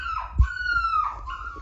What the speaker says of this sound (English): Jeff is over there howling because Lily's the other side of the gate